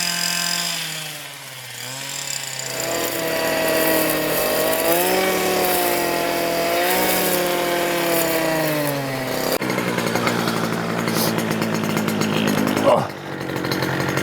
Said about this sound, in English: completely clearing the whole plot with a brush cutter